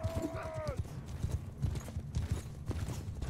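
Horses gallop in Mount & Blade II: Bannerlord, a dense run of close clip-clopping hoofbeats drumming steadily under battle noise, opened by a brief tonal whine.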